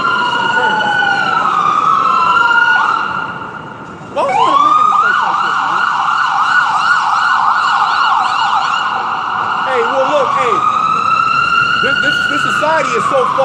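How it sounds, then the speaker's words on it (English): An ambulance siren wails continuously as it passes, loud and close, its rising and falling tones dipping briefly near four seconds before surging back. "You see the ambulance, right?"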